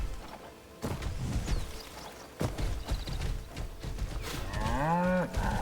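A cow lows in the open-world game Crimson Desert, a drawn-out moo near the end of the clip over soft ambient game noise and faint hoof clops.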